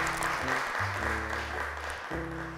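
Audience applause on a children's TV show stage as a child is called up, steady clapping throughout with a bed of background music.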